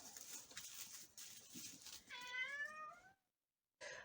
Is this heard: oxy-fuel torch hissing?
no